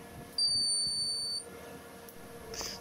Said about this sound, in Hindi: जैसे ही मैंने बैटरी का तार लगाया यहाँ पे बीप की आवाज़ आई और हमारा इन्वर्टर ऑन हो चुका है।